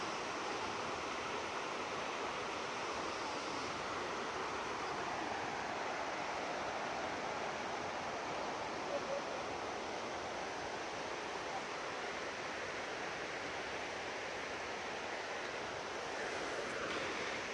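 A clear, shallow river in the East Java countryside, used as a bathing spot, rushes steadily and close by as a continuous broadband wash of flowing water with no speech.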